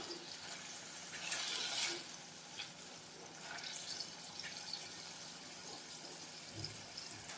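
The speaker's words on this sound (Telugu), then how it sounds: "ఈ పన్నీర్ యాడ్ చేసుకొని ఇవి కూడా బాగా కలుపుకొని లో ఫ్లేమ్లో ఫ్రై చేసుకోండి." Paneer fries in a pan on a low flame with a soft, continuous hiss and gentle bubbling, swelling briefly near the start and then settling at a quiet level.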